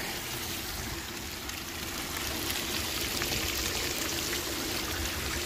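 Water pours steadily from the hose of a cheap bilge pump, a continuous rushing splash at an even level with no pauses throughout.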